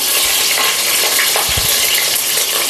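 Ingredients for a coconut-milk mushroom biryani fry in a pan, a loud, steady sizzle with a few stirring scrapes and clinks partway through.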